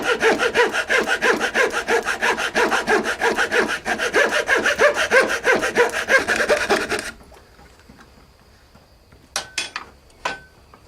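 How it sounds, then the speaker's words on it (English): Hand saw cutting small corners off a wooden block plane body, rapid rhythmic back-and-forth rasping strokes close up for about seven seconds, then a pause with a few light knocks and scrapes. "I'm gonna take my left saw and keep cutting these little corners off."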